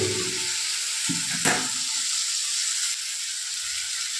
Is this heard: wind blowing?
no